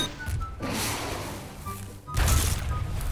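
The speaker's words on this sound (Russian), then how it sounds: "Что здесь взрывается? Это ты взрываешь?" Explosions in a Garry's Mod zombie survival map come as muffled low booms, a dull thud early and a heavier rumbling blast near the end, heard moderately loud.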